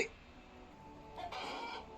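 A rooster crows once in the video game Ultimate Epic Battle Simulator, a fairly faint, drawn-out call rising over quiet background ambience near the end.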